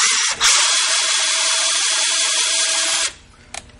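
Cordless drill spinning a Drill N' Tap bit in reverse to back out of freshly cut threads, a steady loud whine for about three seconds that stops abruptly, followed by faint clicks.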